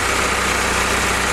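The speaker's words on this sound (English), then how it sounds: "we're running Hal's engine today" A Willys L134 L-head flathead four-cylinder idles steadily, hooked to a T90 transmission and Dana 18 transfer case with overdrive, warming up on break-in oil, with a continuous close, even low rumble and no talk over it.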